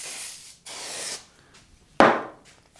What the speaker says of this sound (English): Bit of a spray.